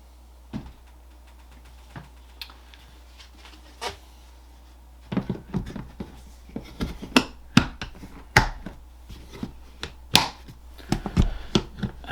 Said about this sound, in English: I like this tub because you can snap it closed.